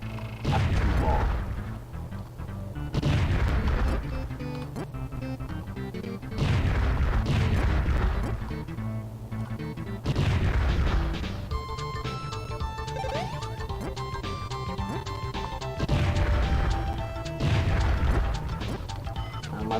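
Super Bomberman 5 bomb blasts, a series of loud booming game explosions that come in repeated bursts every few seconds over chiptune music.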